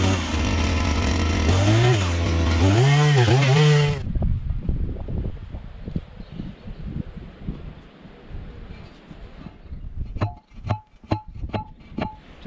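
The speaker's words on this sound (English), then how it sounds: "that's where we're going to drill our hole" An engine-driven drill bores a post hole in a vineyard, revving loudly with rising and falling pitch for a few seconds before cutting off. Quieter knocks and clicks follow.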